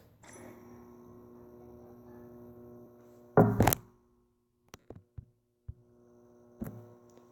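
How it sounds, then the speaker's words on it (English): A steady electronic hum cut off by a sudden loud burst of crackling distortion, then scattered sharp digital blips and thunks over near silence: a monitor glitch sound effect in Halo 5: Guardians Forge. "this is what you should hear from a monitor glitch"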